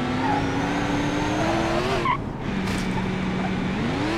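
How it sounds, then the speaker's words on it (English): Game car sliding sideways in BeamNG Drive, a loud sustained tire screech over engine drone, cut by a short break midway before the skid resumes. "It's just such a beast that it just wants to drift sideways."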